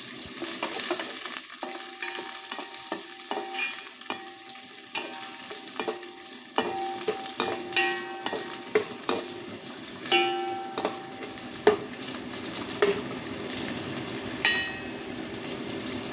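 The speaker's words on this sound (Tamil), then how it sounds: "ஒரு நிமிஷம் வதங்கட்டுங்க." Chopped onion sautéing in a pan for chicken fried rice, a steady close sizzle with scattered stirring clinks and scrapes, no talk.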